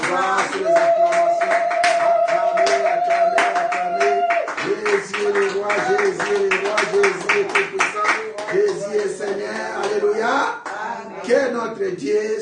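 A church congregation at a Sunday service claps in steady rhythm while voices sing and call out loudly together, the clapping running throughout under the chanting.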